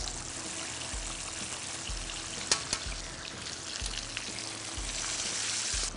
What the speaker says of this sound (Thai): ผัดปลาสักนิดนึงครับเดี๋ยวปลาเหลืองเราใช้ได้แล้ว